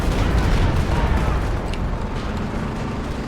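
Company of Heroes 2 2v2 battle with a Stuka rocket barrage and mortar fire, a dense continuous roar of blasts and gunfire that fades slightly over time.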